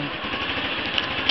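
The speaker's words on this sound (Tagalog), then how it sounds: "maririnig nyo yung makina, revolution ng makina, malakas na po kagad" A Honda Wave 110 motorcycle engine fitted with a fuel-saving device, running with a steady buzzing drone close by, with no pauses and a slight rise at the end.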